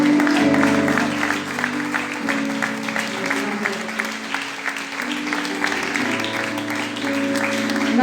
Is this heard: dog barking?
no